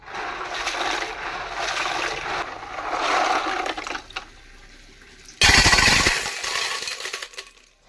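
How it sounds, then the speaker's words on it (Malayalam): Clams are rinsed by hand in a vessel of water, with sloshing, swirling water and rattling shells, a quieter pause, then a sudden louder burst of splashing and pouring before it fades. "ആദ്യം തന്നെ കക്ക വളരെ നീറ്റായിട്ട് കഴുകിയെടുക്കാം"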